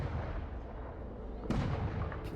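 Distant gunfire from the Sky Splitter airship in Honkai Star Rail, heard as low, rumbling booms under a continuous muffled din, with a sharper blast about halfway through and another hit near the end.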